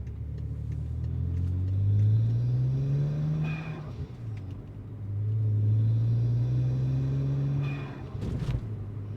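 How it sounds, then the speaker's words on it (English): A BMW N54 twin-turbo engine revs twice, each rise carrying a climbing whine of turbo spool, followed near the end by a sharp hiss of the blow-off valve venting; moderately loud and close, no talk. "I like how you can hear the blow-off valve action."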